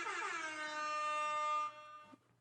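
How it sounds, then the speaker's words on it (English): A loud, sustained air horn blast recorded indoors during a podcast, holding a bright steady tone for roughly one and a half seconds before cutting off, followed by a brief small bump of noise. "I did the air horn."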